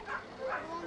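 Racing dogs barking and yipping while chasing the lure on a warm day, two short yelps close together under a commentator's voice.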